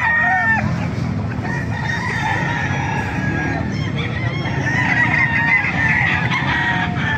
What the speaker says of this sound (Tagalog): Ito na mga manok oh.